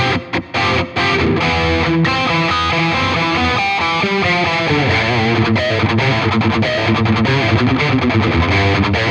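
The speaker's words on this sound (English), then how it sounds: "We need reverb for 80s tones." Distorted electric guitar played through an ENGL Ironball amp with reverb, dense chugging chords and a melodic run in a loud, saturated 80s-style tone, with no voices.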